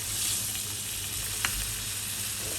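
Sugar syrup with fish sauce and water simmers for a crispy sweet snack, producing a constant close bubbling sizzle with one sharp tap partway through and no talking.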